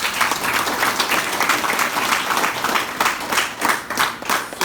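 A meeting audience gives big claps for a mentor at a business plan event: a loud, sustained burst of crowd applause, dense at first and then breaking into more distinct, rhythmic group claps toward the end.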